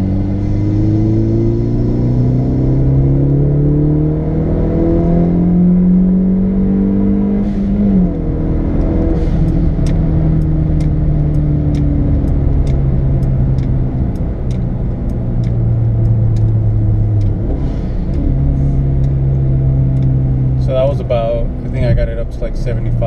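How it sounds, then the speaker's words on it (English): Steady engine drone inside a Hyundai Veloster Turbo with an Injen intake as it accelerates through gears, with a rising whine and short hissing bursts from the blow-off valve, while a person talks. "All I'm hearing right now is all intake noise and some blow valve noise"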